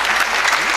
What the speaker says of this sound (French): je veux qu'on applaudisse très fort pour elle